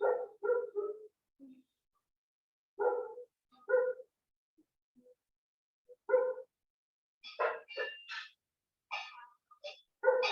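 A dog barks in scattered bursts of short barks and yips, some higher-pitched and whimpering, separated by quiet gaps and heard at moderate distance.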